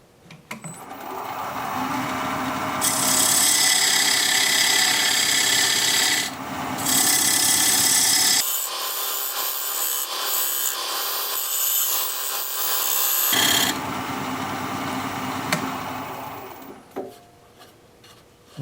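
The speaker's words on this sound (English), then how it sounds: "I'm going to raise my tool rest and use this diamond point tool to square up the sides of the tenon." On a wood lathe, a diamond point tool squares up the sides of a tenon on a turned wooden bowl, giving a loud, sustained scraping whir that briefly drops out and then resumes.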